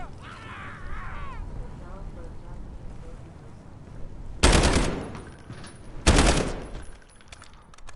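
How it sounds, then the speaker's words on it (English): Rifle fire inside a container in Call of Duty Modern Warfare: two loud, sharp bursts of rapid shots, each about half a second long, follow a stretch of voices and low background rumble. "It must be so loud shooting this rifle in here."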